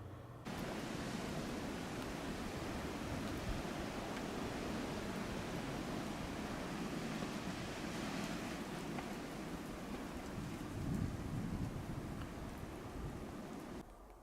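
A blizzard howls outdoors on a rural Illinois country road, a dense continuous roar of wind and blowing snow that holds loud and steady throughout, with one brief surge near the end.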